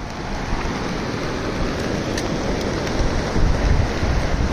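Rough, churning sea on open water, a steady loud broadband wash of surf and wind that swells slightly louder near the end, with no voices.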